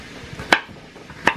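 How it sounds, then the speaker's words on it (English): Two sharp, distinct knife chops on a cutting board during home food prep, spaced under a second apart, close and clear over a quiet background. "I'm done cutting it or chopping it"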